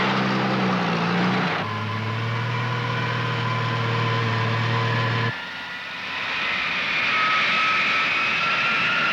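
A propeller airliner's engines roar loud and steady at Los Angeles airport during takeoff, the droning pitch shifting partway through as the plane powers up and climbs away.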